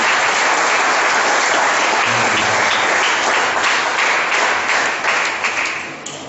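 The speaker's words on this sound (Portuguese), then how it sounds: "Você pode dar uma salva de palmas para o Senhor" A church congregation breaks into sustained applause, loud, dense and steady throughout, then trailing off slightly at the end with no voices over it.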